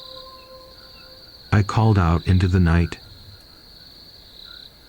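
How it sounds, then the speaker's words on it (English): Crickets chirp steadily through a cold, windy night, a faint continuous trill that runs under a brief burst of a man's speech partway through. "Only the crickets and the whistling of the wind responded"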